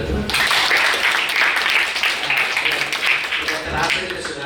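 A talk show audience breaks into applause, a dense patter of clapping that swells and recedes over a few seconds with some voices mixed in.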